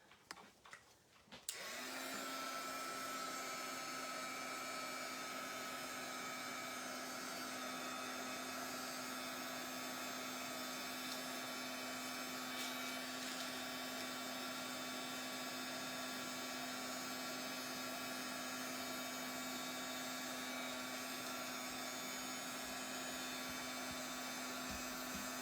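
Heat tool blowing steadily over a mixed media card for crafting, a loud continuous whirring hum that starts after a brief click and runs unbroken to the end, with no talking.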